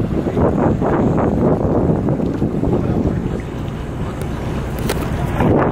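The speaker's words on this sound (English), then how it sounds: "we're on a boat sailing through this kind of scenery." A boat cruises through open sea while island hopping near Coron in the Philippines, with a loud steady rush of wind and water against the hull and gusts buffeting the microphone throughout.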